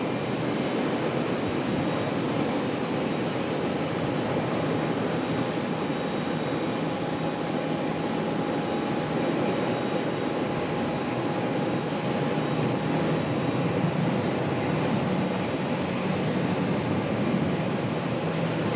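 A Frontier airliner approaches to land at Charlotte airport, heard from a parking deck as a continuous distant jet engine roar that stays steady for the whole stretch, with no talking.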